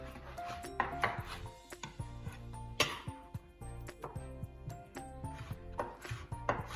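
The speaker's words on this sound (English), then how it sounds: "So just roughly chop the pork nice and thin." A knife chops pork roughly into thin pieces on a cutting board, giving close, irregular sharp knocks in quick uneven bursts, recorded quietly without talk.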